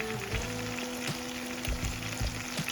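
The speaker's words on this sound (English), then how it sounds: "So now that our veggies has been cooking for about 5 minutes" Vegetables for Jamaican ackee and saltfish sizzle steadily in a pan, a continuous frying crackle with occasional soft knocks of a utensil, heard alone and fairly close.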